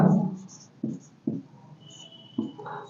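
Pen writing out a Class 9 maths exam solution by hand, in short scratchy bursts with pauses between strokes, close and fairly quiet with faint background tones.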